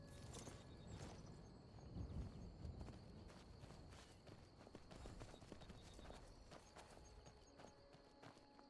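Horse hooves clip-clop steadily in Skyrim, a run of quick, fairly close footfalls over a busy game backdrop, with no talk.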